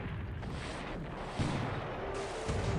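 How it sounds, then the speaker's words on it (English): Naval guns fire in War in the Pacific, a dense run of booming shots and rumbling blasts that overlap into a continuous barrage, with a sharper burst near the middle and another toward the end. "Yep, ocean's been hit there by the guns."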